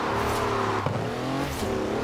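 A 340-horsepower car in the video game Forza Horizon 4, its engine roaring and revving loudly and close for a couple of seconds, with a brief gear-shift dip midway.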